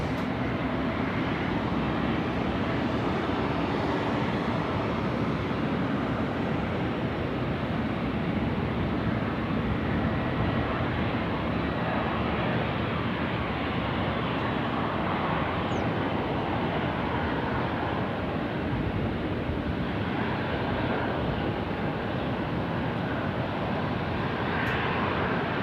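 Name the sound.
Qantas aircraft on final approach from Melbourne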